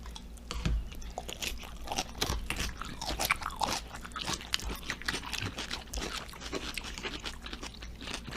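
Crunchy coleslaw, light rather than creamy, eaten at a barbecue food truck, with repeated close crisp chewing crunches in a steady irregular rhythm and no talking.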